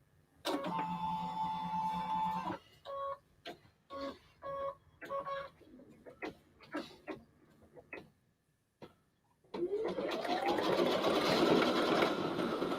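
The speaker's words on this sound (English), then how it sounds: "I'm going to put this down here, and I'm going to actually sew these 2 sides." Sewing machine stitching the two sides of a fabric embroidered handbag together: a steady run of close, loud machine stitching, then a series of short stop-start bursts, before a louder, broader whirring run at the end.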